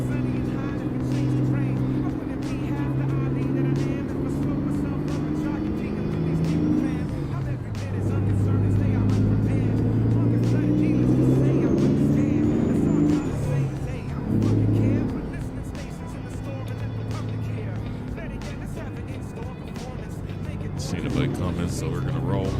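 Heavy haul truck engine labouring under load while pulling a Cozad trailer, a steady loud low rumble that surges and dips, with people talking over it throughout.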